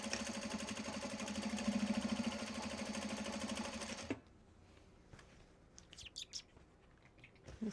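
A sewing machine stitching across a fabric seam on a traveler sling: a steady, close mechanical whirr for about four seconds, then stopping, leaving faint bird chirps in a quiet room.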